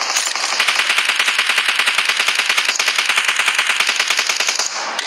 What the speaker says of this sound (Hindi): Can you spray for me AK-6X and Beryl?